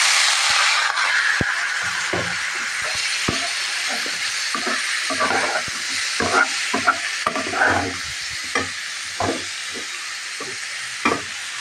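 Bottle gourd greens frying in a pan with onions browned red in oil, a loud hiss that settles into a steady sizzle under frequent clattering stirs and scrapes of a spoon.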